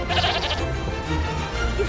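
Sheep bleat in a short, quavering burst near the start, followed by a noisy crowd-and-music backdrop from How to Train Your Dragon 2 that carries on without clear further bleats.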